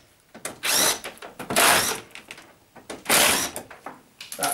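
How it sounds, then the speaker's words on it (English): Plastic screws being undone from the panel of a Zanussi vented tumble dryer with a power driver, short whirring bursts alternating with brief pauses, close and fairly loud. "we need to undo one, two, three, four screws, which are plastic screws, which go into the chassis of the machine."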